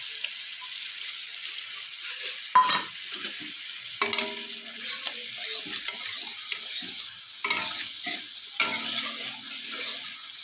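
Chowmein noodles stirred and fried in a pan for a potol paturi dish, with intermittent scraping stirs and a steady soft sizzle, close and moderately quiet, no talking.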